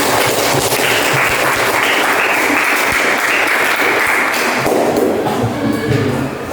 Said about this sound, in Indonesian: Kita kasih aplaus dulu kedua teman kita